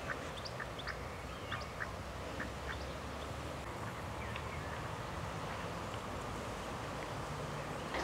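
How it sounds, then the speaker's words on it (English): Ducks quack in a cottage garden in May, a scattering of soft, fairly distant calls over quiet outdoor ambience and faint rustling. "The ducks are just coming down."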